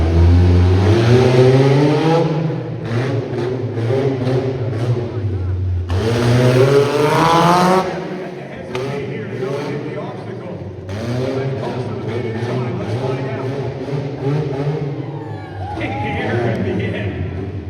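The Bunny 2.0 monster truck, driven by Dakota Boomer Sackman, roars loudly as it revs and climbs an 8-foot kicker ramp high in second gear at an arena motorsports show, its engine pitch repeatedly rising and falling while an announcer talks over it.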